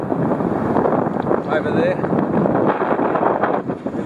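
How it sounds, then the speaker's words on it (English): Strong wind buffets the microphone in a continuous roar near a marina and jetty at Hervey Bay, Queensland, with a person speaking briefly over the gusts. "it's a little windy today"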